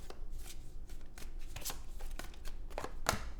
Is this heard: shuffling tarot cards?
yes